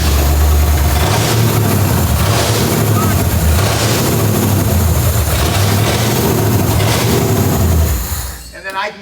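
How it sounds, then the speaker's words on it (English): A vintage 1972 Ford engine, abandoned for twenty years, runs loud and rough with a deep throbbing rumble and rhythmic surges of revving, then cuts off near the end. "So you guys just saw the revving was actually from me"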